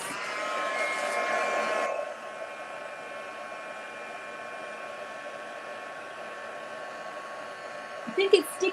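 Heat embossing tool blowing hot air over a stamped card, a steady whirring hum that is louder at first and then settles to a lower drone, with a few brief knocks near the end.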